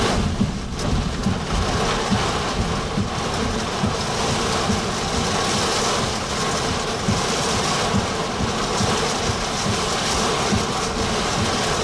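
Heavy rain pours during a Texas tornado storm, a dense, steady hiss with low rumbling underneath, close and constant, with no voices.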